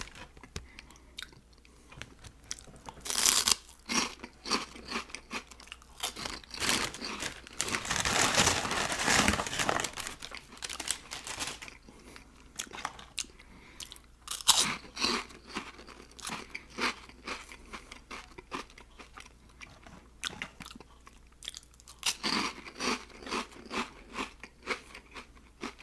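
Close, crunchy chewing and biting of KFC cinnamon twists, with crinkling wrapper sounds and irregular crisp crunches throughout and a louder burst of rustling in the middle, all intimate and near.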